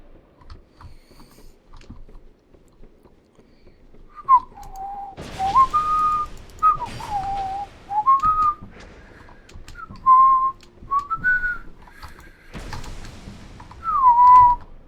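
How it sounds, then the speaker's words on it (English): A person whistles a wandering tune in short phrases while playing Dark Souls II, sometimes broken by louder bursts of game noise and clatter. "Sorry, I was whistling."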